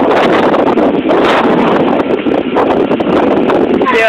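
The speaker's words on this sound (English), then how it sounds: "Wind is very high. Look at the trees." Strong wind roars steadily as a storm tries to form a tornado near Byhalia, Mississippi, with heavy gusting buffeting the microphone and rushing through leaning trees, loud and continuous.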